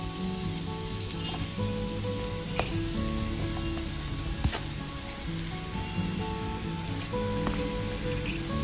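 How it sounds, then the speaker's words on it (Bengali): Potatoes go into a pan of well-fried onions for Bengali potato chop, giving a continuous close, crackling sizzle of hot oil with a few sharper pops and stirring sounds, with no talking. "এটা ভালো করে ভাজা ভাজা করে নিয়েছি, এবার এর মধ্যে আলুগুলো আমি দিয়ে দেবো"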